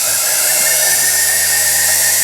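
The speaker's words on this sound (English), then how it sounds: "So I can try to just go in the ball burr." Rotary tool fitted with a ball burr drilling into a copper cuff, a steady loud high-pitched whine held without a break, close up.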